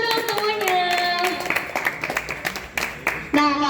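Audience at an Indonesian literary community exhibition event claps briefly, a scattered patter of hands running under music and fading after a few seconds.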